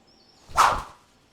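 A golf club swings once in a single sharp whoosh that swells and fades in under a second, close by and otherwise quiet.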